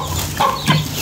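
Aseel chickens cluck while being fed, two short close clucks rising over a low background murmur, with no talk.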